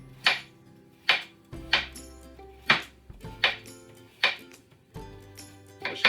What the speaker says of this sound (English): I'm going to chop up our vegetables.